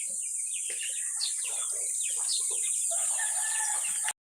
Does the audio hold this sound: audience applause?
no